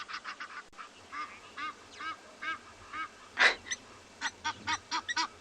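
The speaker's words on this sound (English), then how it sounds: "Okay, Mr. Egyptian Geese, we hear you." Egyptian geese honk repeatedly on a South African safari, a series of harsh, nasal calls in an uneven rhythm with one louder blast midway, moderately close over a quiet outdoor background.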